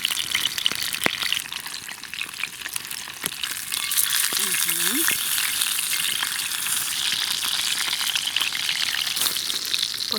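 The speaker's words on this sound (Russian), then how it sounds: "Итак, мясо шкварчит." Meat fries in a pan over a bushcraft campfire outdoors, giving a steady close crackling sizzle with scattered pops and a faint stir, and a brief voice in the middle.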